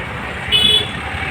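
Vehicles move along a rough road in Chandrapada, Maharashtra, with steady road noise throughout and a brief car horn toot sounding near the middle.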